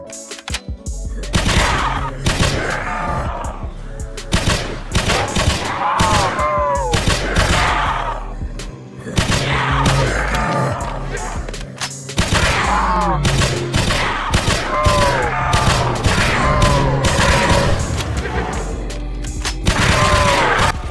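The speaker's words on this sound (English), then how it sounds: "Now here's a demo of the gun when it's fully automatic using hipfire." A G3A3 battle rifle fires fully automatic from the hip in the game Project Lazarus. Loud, continuous bursts run almost the whole time, broken by short pauses.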